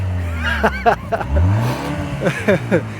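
A 2024 BMW X1 M35i engine revs and growls close by in short rising bursts, with a person talking excitedly over and between the pulls.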